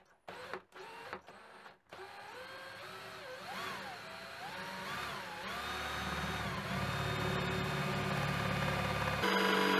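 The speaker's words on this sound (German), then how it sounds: "wird es im Idealfall mit einem sogenannten Forstnerbohrer gebohrt. Dazu spannt man ihn in einen Akkuschrauber. Nun kann gebohrt werden." A cordless drill fitted with a Forstner bit bores an entrance hole into a wooden nest box, starting with a few short spins, then a wavering whine that settles into a steady, louder grind close by.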